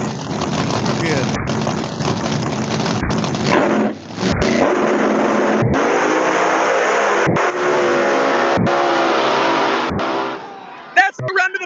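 A race car accelerates hard on its qualifying run to the pole, its engine a loud, sustained roar with steady rising harmonics. Regular brief dropouts break the sound, and a voice talks over it near the end.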